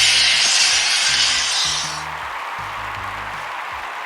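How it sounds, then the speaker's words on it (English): A round of applause from a crowd, a dense hissing wash of clapping that is loud at first and then drops to a softer level midway, with low hum-like tones running underneath. "the round of applause he's getting right now is pretty staggering"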